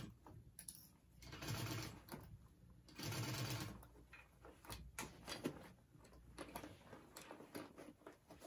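A sewing machine stitches a backpack seam in two short, steady runs of rapid needle whirring, with fabric handling, soft clicks and taps between them, all close and quiet.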